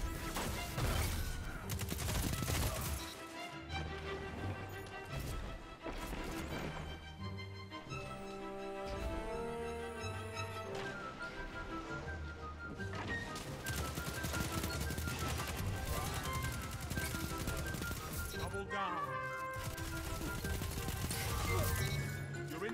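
Submachine gun fire in the Destiny video game, rapid bursts crackling over a dense, busy mix of game music and effects that runs steadily throughout.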